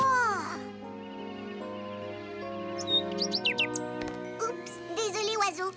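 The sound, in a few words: cartoon bird chirping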